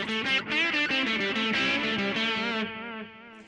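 Electric guitar through a Vox amPlug 2 AC30 headphone amp with a repeating delay effect, a run of picked notes echoing and trailing off, distorted and fairly loud.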